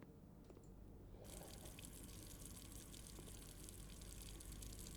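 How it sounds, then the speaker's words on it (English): A kitchen faucet in the video game Blue Prince is turned on and water gushes in a steady hiss after a quieter moment, faint and continuous with small splashy ticks. "The payoff is that we could turn the faucet on, which is good."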